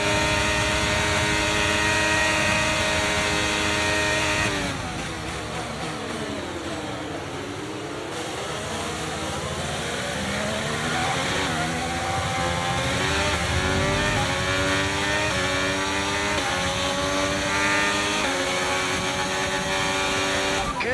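F1 race cars in the F1 23 video game overtaking, with loud high-pitched engines revving and shifting through gears, several cars' tones sweeping and overlapping as they pass close by, with a voice briefly heard under the roar.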